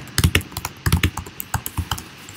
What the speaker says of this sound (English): I'm going to type something in here